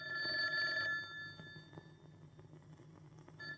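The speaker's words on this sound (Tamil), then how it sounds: "என்னங்க, உங்களுக்கு ஃபோன் வந்திருக்கு." A telephone bell rings in a dramatic film scene, a steady electric trill that stops after about a second, with quieter room sounds after it.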